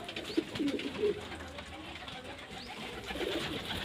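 Pigeons feeding on grain give soft, low coos close by, with faint background noise.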